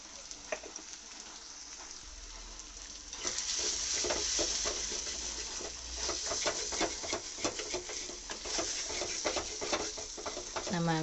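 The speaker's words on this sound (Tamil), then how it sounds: "அடிக்கடி கிண்டி விட்டுட்டே இருங்க" Chettinad mutton chukka fries in a pan while being stirred, a steady sizzle with scraping, rustling strokes that grow louder partway through, close and continuous.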